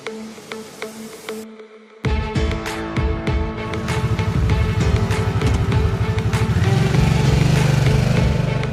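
A 2022 Harley-Davidson Sportster engine runs with a loud, steady rumble that cuts out briefly, then returns and swells into a strong, sustained drone.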